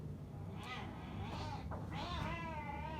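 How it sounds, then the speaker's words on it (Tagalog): Cats fighting outdoors near a house by a half basketball court, with a run of loud drawn-out meows and yowls over steady background noise. "may nag-aaway na pusa"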